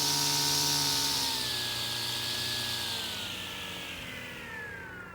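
Harbor Freight Atlas string trimmer engine winding down from full throttle after the trigger is released, a loud whine with its pitch sliding steadily lower and fading over a few seconds.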